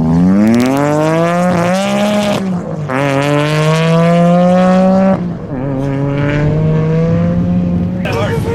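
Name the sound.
V6 Honda Civic race car accelerating down the half mile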